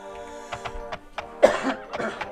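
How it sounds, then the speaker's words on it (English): A few short, raspy, phlegmy coughs and throat-clearing sounds from someone close by, with a quiet tonal background continuing underneath. "Sorry I keep coughing."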